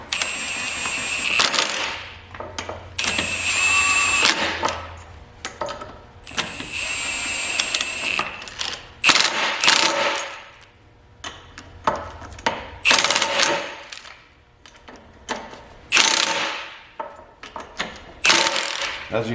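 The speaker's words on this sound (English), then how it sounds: "Here's my torque wrench also." Torque wrench ratcheting a bolt during car work, giving repeated bursts of bright metallic clicking in uneven clusters, loud and close, with short pauses between runs and no talk.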